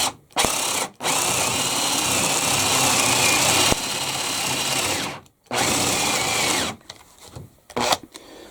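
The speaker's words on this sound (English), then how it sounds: "keep the drill and the drill bit upright, and then push down. We're going to go on the high speed" A power drill fitted with a spade flat bit bores into wood at high speed, a loud steady close whine running for several seconds, stopping briefly, then starting again with a shorter uneven burst at the end.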